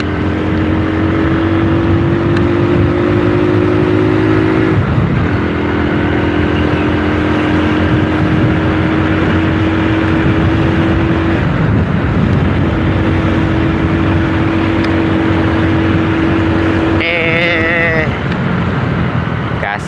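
A Honda Win motorcycle engine runs in third gear with a steady, loud drone and slight shifts in pitch, heard close over continuous road and wind noise.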